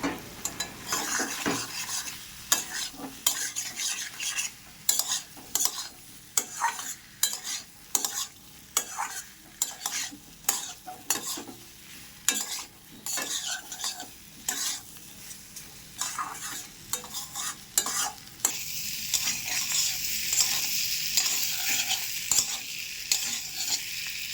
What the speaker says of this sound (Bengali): ভেজে রাখা সবজিগুলো দিয়ে এবার মশলার সাথে ভালো করে মিশিয়ে নেব